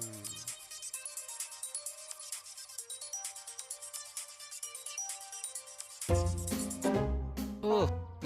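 A mobile phone rings with an incoming call, a looping melodic ringtone repeating steadily for several seconds before louder music swells in at the end.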